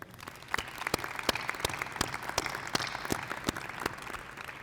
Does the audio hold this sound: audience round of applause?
yes